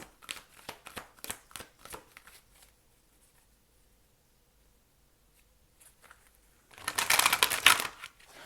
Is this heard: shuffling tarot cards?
yes